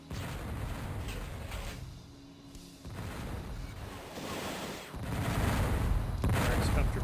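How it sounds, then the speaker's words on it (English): Rumbling artillery barrage in a competitive video game match, dense and continuous with a brief lull near the middle before swelling louder again toward the end. "Firex comfortably avoiding that barrage."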